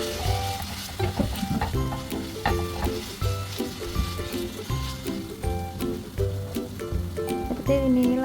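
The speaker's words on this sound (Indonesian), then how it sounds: "Isiannya kita tumis bumbunya dulu, dan kita tumis sampai bau harum atau udah masak." Spices sizzle in a hot pan while being stir-fried for a curry puff filling, a steady close frying hiss with repeated scraping stirs of the utensil.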